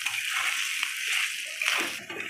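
Water being poured into a pan of potatoes cooking with spices, a steady hissing splash with a short burst of sloshing near the end.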